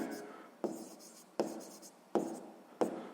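Pen writing on paper during a sixth-grade math exercise, with a soft continuous scratch broken by several short strokes in a steady rhythm, quiet and close.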